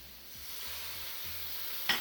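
Steady sizzling hiss of onion-tomato masala frying in a pan for a Kerala bitter gourd dish, with a few low scraping stirs and a brief clatter near the end.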